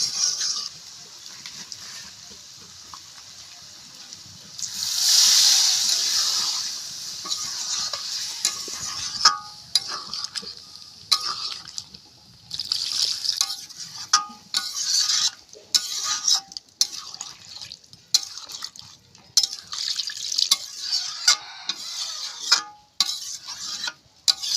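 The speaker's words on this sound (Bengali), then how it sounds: "এবার আমরা জল দিয়ে দেবো।" Water poured into chicken curry with potatoes sets off a loud hissing surge, followed by repeated scraping and clinking stirs of a utensil in the pot with a soft sizzle underneath.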